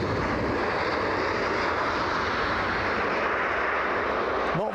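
An Austrian Airlines airliner at Brussels Airport, a steady, loud jet engine roar filling the whole stretch without pause, with no voices over it.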